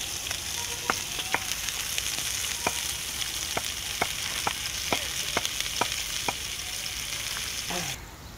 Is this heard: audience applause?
no